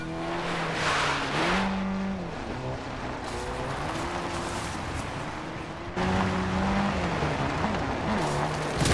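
A vehicle engine in Call of Duty MW3 Zombies drones and revs with rising and falling pitch, loud and continuous, with some faint game sounds underneath and no talking.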